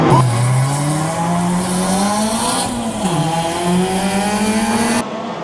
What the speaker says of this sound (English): the Mustang and the Civic left the Miata at the starting light